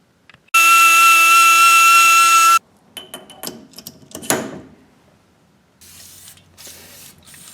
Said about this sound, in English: open it up with that sandpaper roll